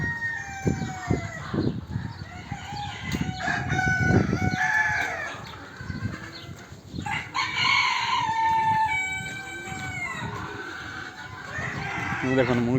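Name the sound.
chickens clucking and crowing in garden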